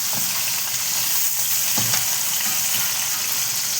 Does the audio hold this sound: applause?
no